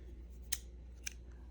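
Scissors snipping yarn while crocheting a diamond-stitch cardigan: two sharp, close cuts about half a second apart against a quiet background hum.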